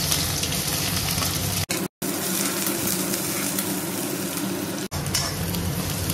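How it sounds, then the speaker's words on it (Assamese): Sliced onions frying in hot oil with panch phoron, dried red chillies and bay leaves for an Assamese lobia curry, a loud steady crackling sizzle throughout, broken by a couple of brief silent gaps. "পিঁয়াজখিনি অলপ ৰঙা হোৱালৈকে ভাজি লওঁ।"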